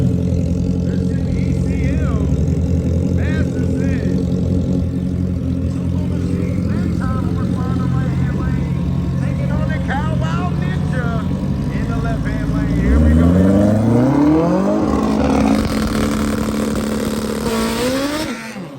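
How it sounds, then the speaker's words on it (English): A chopper motorcycle races down the quarter-mile strip at Lapeer International Dragway, its engine rising through gears in a loud, climbing roar that swells near the end, with a commentator talking throughout. "chopper is chopping his way on down through the quarter mile"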